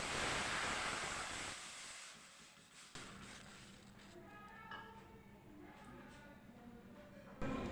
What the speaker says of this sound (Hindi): अब हम इसमें डाल देते हैं 1 कप पानी।